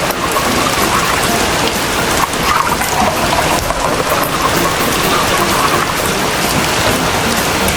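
Heavy rain pours steadily on a campsite, a loud, dense, continuous hiss of drops drumming on surfaces with no pauses, close and enveloping, with no voices.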